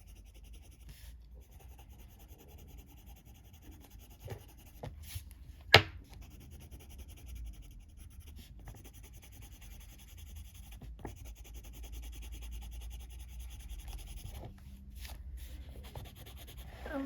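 A coloured pencil rubs steadily across paper while a page of a colouring book is filled in, a soft continuous scratchy scraping heard close up, with one sharp tap partway through and no talking.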